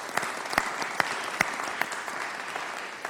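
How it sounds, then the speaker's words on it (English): An audience applauds steadily for about three seconds, a dense wash of hand claps with a few sharper, louder claps standing out near the front. "Let's give her another round of applause."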